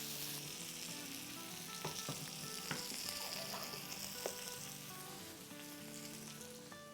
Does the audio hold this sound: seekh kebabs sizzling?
yes